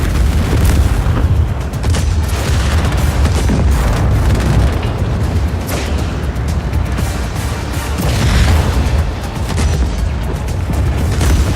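Heavy video game cannon booms and explosions pound almost nonstop, a dense and loud barrage of blasts with no pauses and no voices.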